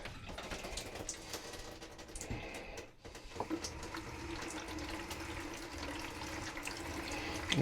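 Water runs from an RV faucet whose water pump has been surging, a steady close splash into the sink with a brief dip partway through and small clicks and handling noises.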